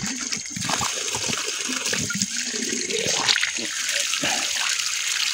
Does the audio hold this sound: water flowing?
yes